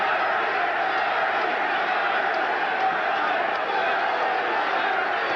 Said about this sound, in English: the crowd starts a chant, Larry, Larry